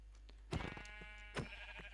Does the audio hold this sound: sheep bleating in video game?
yes